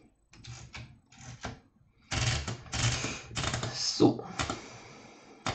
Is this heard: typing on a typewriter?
yes